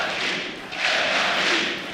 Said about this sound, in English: The home crowd cheering for the Ninjas in Pajamas.